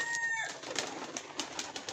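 Pigeons moving about a loft, with scattered soft wing flutters and shuffling over a steady background, a brief high whistle-like tone early on, moderately close and continuous.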